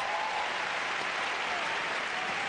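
A near-capacity tennis crowd applauds inside Bercy arena in Paris, a dense, continuous roar of clapping that holds steady and loud throughout.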